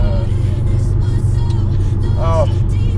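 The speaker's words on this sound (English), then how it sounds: "sometimes idles like it's a big cam V8, and I think that's because of the turbo" A turbocharged vehicle engine idles roughly with a lumpy, big-cam V8 rumble, a loud, steady low throb that continues under someone talking.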